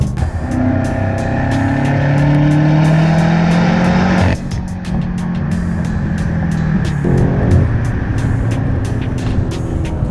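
A BMW M8 Competition engine revs hard with rising gear shifts and crackling exhaust burbles, loud and close, dropping briefly before building again.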